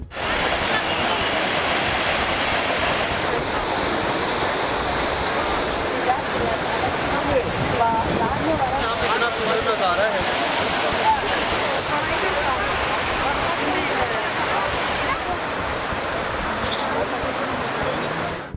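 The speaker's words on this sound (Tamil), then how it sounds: "அழகிய அடர்ந்த வனப்பகுதிக்கு மத்தியில் ஆர்ப்பரித்து செல்லும் தண்ணீரை பார்த்து ரசித்த சுற்றுலா" Pykara waterfall amid dense forest, its water roaring in a loud, continuous rush. A voice speaks over it.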